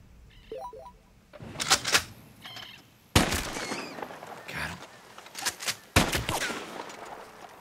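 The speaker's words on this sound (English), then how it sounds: "I think I need the varmint rifle" Varmint rifle shots in the Red Dead Redemption 2 video game, with several sharp, loud cracks standing alone and spaced a few seconds apart, each followed by a short echoing tail and light game ambience.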